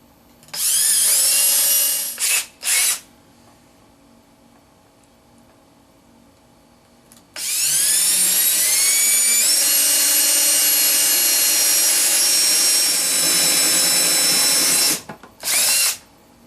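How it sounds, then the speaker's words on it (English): A power drill bores a pilot hole in the middle of a lid: two short high whining bursts, a pause, then a long sustained grinding run that cuts off before two more brief bursts. "I'm going to make a little pilot hole first. Put me right in the middle."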